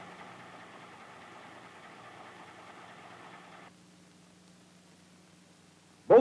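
The engine of a WWII US Army M2 light tank idles at about 1,000 RPM, a steady low hum for a few seconds that then drops away, followed by a sudden loud burst at the very end.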